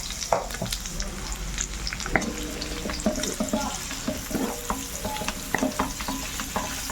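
Carrots stirred into chorizo frying in a pan, a close steady sizzle broken by scraping and clacking spatula strokes, no talk.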